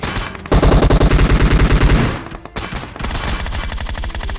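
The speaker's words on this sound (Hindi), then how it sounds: "लेकिन तभी एक और फायरिंग होती है" Automatic gunfire in a battle royale shooter video game: a loud, sustained burst of rapid shots, then a short pause before a second, slightly quieter volley, with no voices.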